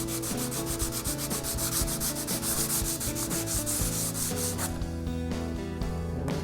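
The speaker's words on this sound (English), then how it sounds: "take a little bit of degreaser and some worn out sandpaper and just really lightly hit that area just to take those burrs back down" Worn-out sandpaper lightly rubs a metal workpiece to knock down burrs, a steady scratchy scuffing that runs continuously at close range.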